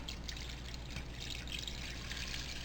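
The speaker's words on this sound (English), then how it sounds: "3 cups of water going in here." Three cups of plain water pour steadily into a homemade hot sauce mixture, a soft continuous trickle up close and fairly quiet.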